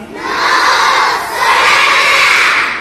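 Schoolchildren at a school in Nashik shout loudly together in unison, a sustained group cry that swells in two waves and fills the room.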